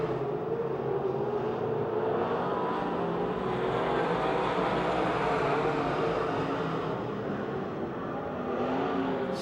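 Race cars circling the banked oval at Pennsylvania Motor Speedway near Pittsburgh, a steady loud roar of several engines blending into one continuous drone, without breaks, through the whole stretch.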